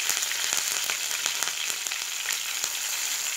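Green chilli and curry leaves frying in hot oil for a dates pickle, a steady bright crackling sizzle with dense small pops running throughout, close and even, with no voices.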